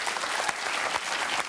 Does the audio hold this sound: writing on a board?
no